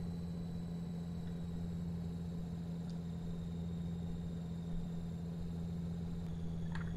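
An in-game vehicle driving along a dirt road in Farming Simulator 2015: a steady, droning engine hum with a strong low tone, held constant throughout, with no talk over it.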